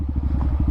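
A motorcycle idles close by with a low, pulsing engine rumble as it is moved and turned in a cramped parking spot, uneven throbbing for under a second with some clatter.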